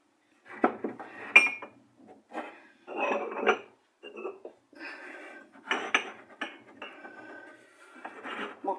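Salad bowl and dishes set down on a kitchen table, with scattered clinks and knocks of crockery and cutlery in irregular bursts, close and moderately loud.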